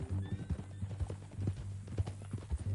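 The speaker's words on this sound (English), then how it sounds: "That a new horse?" Horse hooves clip-clopping in the Red Dead Redemption video game, a quick, even run of close hoofbeats over a low steady hum, with no voices.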